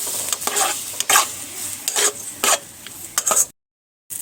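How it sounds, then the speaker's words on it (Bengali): Semolina being stirred and roasted dry in a pan gives short, scraping, rasping strokes in an irregular rhythm, close and fairly loud, and then the sound cuts off abruptly near the end. "দেখো সুজিটা আমার খুব ভালোভাবে ঝরঝরা করে ভাজা হয়ে গেছে"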